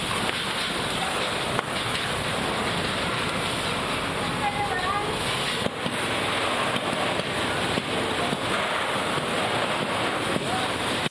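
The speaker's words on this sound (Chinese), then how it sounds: "这火焰直接往上窜，还不时是传出爆炸声" A large warehouse fire burns among linked sheet-metal buildings holding clothing materials in Nanzi, Kaohsiung. Flames make a continuous loud, rushing roar, with a few sharp cracks and pops over the steady din.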